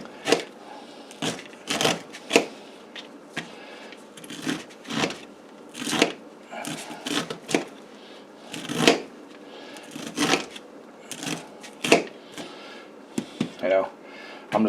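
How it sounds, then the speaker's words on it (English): A knife slices kernels off a sweet corn cob in a kitchen, giving repeated crisp scraping cuts in irregular strokes close by, with a person talking between them. "Just don't cut it into the cob too much."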